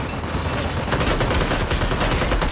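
Gunfire from a battle royale video game rattles out as loud, rapid automatic bursts, dense and continuous for a couple of seconds with no voices over it.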